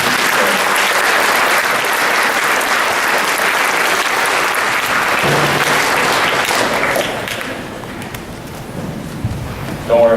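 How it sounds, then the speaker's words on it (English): Veterans Day audience applauding a school band and choir, with loud sustained applause from a large crowd that slowly tapers off, and a voice coming in at the very end. "How about a round of applause for our band and choir this morning?"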